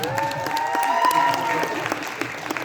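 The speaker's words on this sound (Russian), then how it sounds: "Аплодисменты встречаем!" A crowd claps continuously in an indoor hall at a children's short film festival awards ceremony, a dense even patter of applause over a sustained tonal backdrop.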